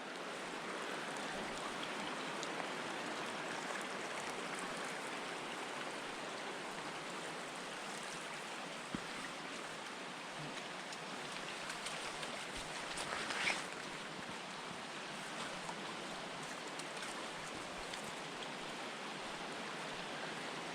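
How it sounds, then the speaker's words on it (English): South Siskiyou Forks creek rushes steadily in a forest, a broad, even hiss of flowing water that holds constant for the whole stretch, with no voices and only small shifts in loudness. "That's the creek right there. That's Siskiyou Forks."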